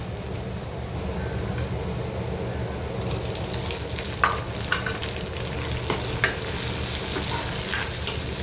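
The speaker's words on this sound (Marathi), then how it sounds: "कांदा आणि लसूण व्यवस्थित परतून झाला की मग त्याच्यामध्ये आपल्याला टोमॅटो ॲड करायचे आहेत" Onion, garlic and tomatoes sautéing in a pan for a spicy prawn curry, giving a steady sizzle throughout with occasional stirring scrapes and clinks that grow busier midway, heard alone without talk.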